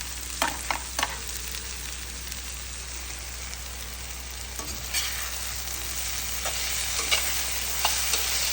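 Onions sautéing for a bitter gourd fry, a steady soft sizzle with occasional stirring scrapes and taps of a spatula in the pan, close and fairly quiet with no talking.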